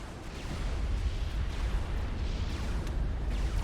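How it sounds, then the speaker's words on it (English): Battlefield explosions from the strategy game Supreme Commander: Forged Alliance, a dense, continuous rumble of booms and crackling static-like distortion that stays loud and unbroken throughout. "I love the explosion effects, like the static and distortion."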